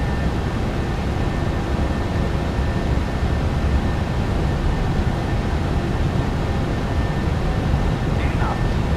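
A PMDG 737-800 at takeoff power in MSFS2024 produces a steady, loud broadband engine roar with a faint high whine, continuous and unchanging across the stretch.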